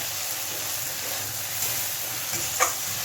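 Eggplant and shrimp fry over a medium gas flame, giving a steady close sizzle with a couple of faint stirring scrapes and one small pop near the end.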